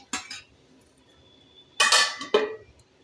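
A pot of fish curry with jiyol fish, eggs and taro being stirred, then covered with a lid: a few sharp metallic clinks and scrapes in three short bursts, close and clear, with quiet gaps between.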